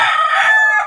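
A fighting rooster at a backyard gamefowl farm gives a single loud, close crow that lasts under a second and is heard alone.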